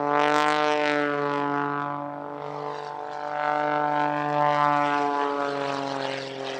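An Edge 540 aerobatic propeller plane flown at an airshow by Kirby Chambliss drones loudly with a strong buzzing tone that dips and rises in pitch as it maneuvers overhead.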